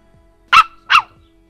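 A small female dog gives two quick, loud, close barks in a quiet room, with a steady faint hum in the background.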